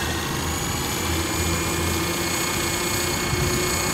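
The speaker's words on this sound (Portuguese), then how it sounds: "É o helicóptero." Trex 500 RC helicopter with a misinstalled servo linkage, its engine running steadily with a constant whirring drone and vibration, close and loud throughout, no speech.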